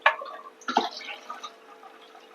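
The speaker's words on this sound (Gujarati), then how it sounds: "હવે આપણે આમાં બે કપ જેટલું એકદમ ઠંડુ ફ્રીજનું પાણી ઉમેરીશું" About two cups of ice-cold refrigerator water poured into a vessel with a green spice mixture for spicy-sweet pani puri water, heard as a few short, close splashing bursts with no talking.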